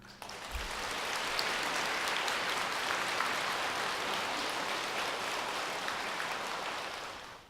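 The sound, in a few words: audience applause at a Buddhist dharma talk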